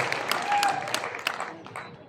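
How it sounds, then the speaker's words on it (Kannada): An audience claps at a public gathering addressed by a Kannada religious seer, a scattered crowd applause with sharp overlapping hand claps running steadily throughout under faint voices. "ನೀವು ಚಪ್ಪಾಳೆ ಹೊಡಿತೀರ"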